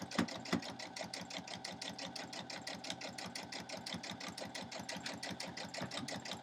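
Sewing machine stitching quilt pieces, running steadily with a fast, even rhythm of needle strokes throughout, close and fairly loud with no talk.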